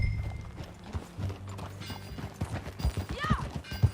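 Horse hooves clip-clop steadily during a ride in Red Dead Redemption 2, a close rhythmic patter of thuds with a brief whinny-like call near the end and faint ambient game sound.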